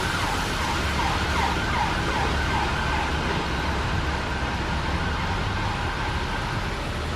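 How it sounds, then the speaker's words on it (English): Emergency vehicle sirens wail on a London street, rising and falling for a few seconds over a steady, loud bed of traffic noise, with no talking. "Always a lot of sirens going on in London."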